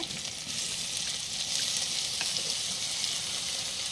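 Tomatoes hitting a hot pan for jackfruit thoran give a steady, bright, close sizzle with a faint crackle throughout, no voices over it.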